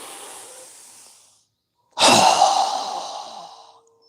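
A strong, forceful exhale during a guided breathing exercise: after a softer breath and a brief pause, one loud, close rush of air lasts about two seconds and then fades.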